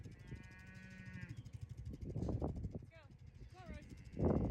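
Cattle moo on a farm with rotational grazing, several drawn-out lowing calls near and far, while someone talks over them and birds chirp faintly.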